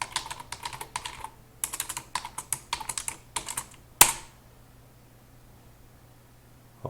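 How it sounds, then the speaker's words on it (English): Login and password being typed on a computer keyboard, heard as close bursts of quick key clicks separated by short pauses, closing with one sharp louder keystroke and then near silence. "you just type the login and the appropriate password"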